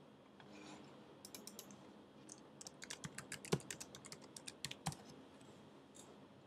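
Typing on a computer keyboard, a run of quick light key clicks in uneven bursts, close and fairly quiet, with no voices.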